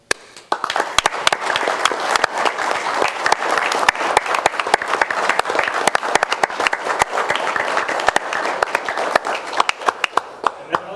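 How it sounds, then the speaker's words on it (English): Audience in a city council chamber breaks into applause, sustained crowd clapping with sharp individual claps standing out, lasting around ten seconds at close range. "I'd like to give them a round of applause"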